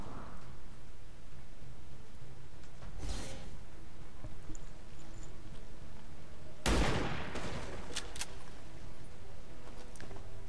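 Sniper rifle gunfire during an Avenger defense mission in XCOM 2 (Long War of the Chosen): two sharp loud shots, one near three seconds and a bigger crack near seven, followed by brief clattering debris over a steady low background.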